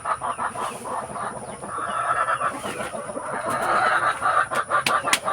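Heritage free-range chickens cluck and chatter together at feeding time on a farm, with a busy, overlapping flock close by and occasional sharper calls, no voices.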